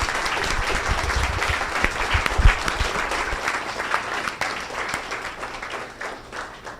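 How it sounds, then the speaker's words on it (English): Audience at a lecture applauding a speaker, a dense, steady wash of many hands clapping that carries on throughout at moderate level, slowly thinning toward the end. "can we get another round of applause for Betsy Yay, Williamson?"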